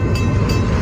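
A rail-laying train rolls slowly along track at a speed restriction near Locke Mills and Greenwood, Maine, a loud, steady low rumble with faint rhythmic clicks.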